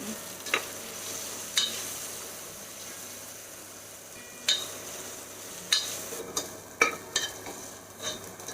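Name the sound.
onions sautéing with ginger garlic paste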